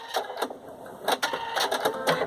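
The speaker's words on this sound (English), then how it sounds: "this is our placement stitch for our applique" An embroidery machine sewing a placement stitch for a face mask applique, giving off a rapid, steady mechanical stitching clatter with regular rhythmic pulses, close and fairly loud, with no talk.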